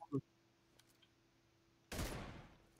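A single brief, faint pop early on, then a louder sharp gunshot burst with a decaying tail in PUBG Lite, against a quiet background.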